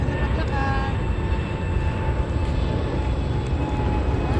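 An airplane drones overhead as a steady broad rumble with a faint whine, continuous and moderately distant throughout, with voices talking softly beneath it.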